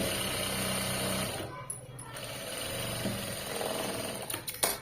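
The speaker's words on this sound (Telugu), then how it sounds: "మళ్ళీ ఇలా ఉల్టా తిప్పేసుకుని మళ్ళీ స్టిచ్ వేసేసేయండి ఇక్కడ." A home sewing machine stitching fabric runs in a steady mechanical whir for about a second, then breaks into shorter, uneven bursts of motor noise with brief pauses.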